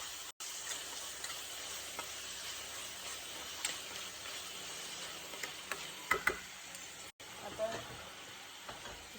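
Finely chopped tomatoes hit frying onions in a pan while cooking a spiced cluster bean (gavar) bhaji, giving a steady broad sizzling hiss throughout with a few faint clinks and stirring sounds.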